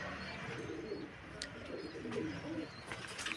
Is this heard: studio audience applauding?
no